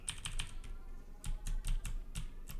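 Clicks of a computer keyboard with a broken Z key: bursts of close, crisp keystrokes in an uneven rhythm, alone without speech.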